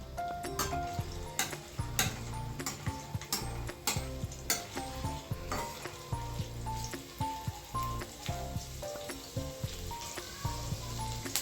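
Chopped ginger and green chillies sizzle and sauté in hot oil for a samosa filling, with a steady frying crackle and repeated scraping stirs of a spoon against the pan, close and fairly loud, no voices.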